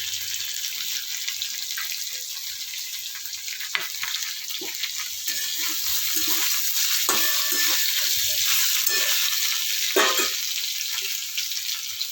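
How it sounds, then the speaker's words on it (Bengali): Fried bitter gourd pieces drop into a hot pan of oil and sizzle steadily, with scattered clinks and scrapes of stirring. The sizzle is close and continuous, with no voices. "পাকানো হয়ে গেছে, এবার দিয়ে দিচ্ছি"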